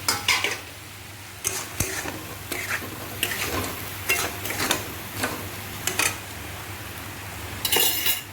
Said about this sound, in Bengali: ভালো করে ফ্রাই করে নেব আলুটা তো খুব বয়ল হয়ে গেছে আলুটা দিয়ে দিচ্ছি